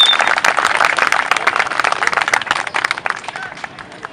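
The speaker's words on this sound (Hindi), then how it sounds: "आपकी भरपूर तालियों में मैं दावत दूंगा" Audience applause and clapping at a National Yoga Federation opening ceremony at Pahari ground in Faisalabad welcomes Yogi Naeem, a dense, steady wash of many hands that carries on for the whole stretch without a break.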